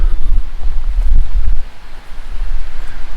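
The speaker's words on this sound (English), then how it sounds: "here's a little waterfall going across the trail" A small waterfall spills across a hiking trail in southern Colorado, heard as steady broadband rushing water mixed with low wind rumble, fairly close and continuous.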